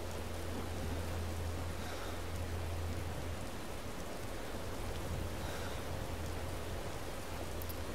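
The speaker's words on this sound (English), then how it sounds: "Sometimes when the weather changes like this and it becomes like rainy and stuff" Steady rain weather in the video game Morrowind, a constant dense hiss with a low background hum, evenly loud throughout with no voices.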